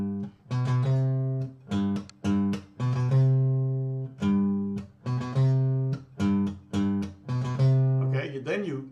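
Guitar strummed in a simple groove with upstrokes striking the strings, clear repeated chords in an even rhythm, close and fairly loud with no talking.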